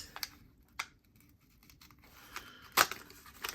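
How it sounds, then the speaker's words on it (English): Scissors snipping a small plastic baggie, a few quiet, sparse crisp cuts and rustles spread apart, with one sharper snip near the end. "Then I have to cut the baggie."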